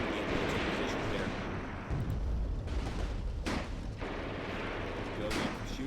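Artillery fire pounds a trench line in the World War II tactics game Graviteam Tactics: Mius-Front, a continuous rumble of booming blasts with a few sharp, louder detonations standing out against the barrage.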